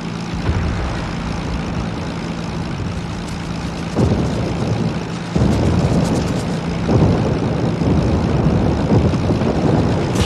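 Aircraft engines in World of Warships, a steady propeller-like drone with low hum that swells as the planes approach, growing louder in stages with no talk.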